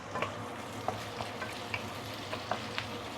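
Prawns and Chinese sausage frying in hot garlic oil for Penang-style fried noodles, a faint, even sizzle with a few soft ticks and pops scattered through it, no voices.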